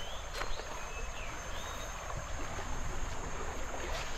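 Shallow, clear river water flows steadily past a tidy campsite, a soft continuous wash of close-range rippling with faint splashes and no talking.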